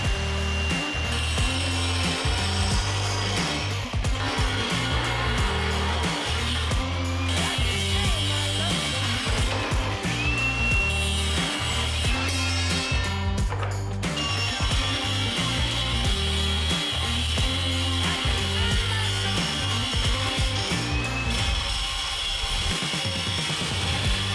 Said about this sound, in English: I can go ahead and cut this unistrut down to the right length